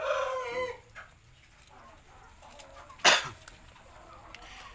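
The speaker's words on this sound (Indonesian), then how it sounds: "Nah untuk ayam Samu sendiri sebenarnya berbeda dengan ayam Bangkok ya kawan-kawan." A Shamo rooster crows once at the start, followed by soft clucks and a sharp, sudden snort-like burst, all fairly close in a quiet setting.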